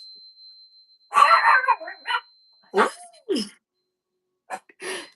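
A small dog barks in several short sharp bursts during an energy-cleansing session, the yaps spaced out with brief pauses between them, fairly close and loud, with no talk over them.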